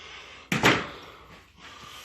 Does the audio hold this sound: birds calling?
no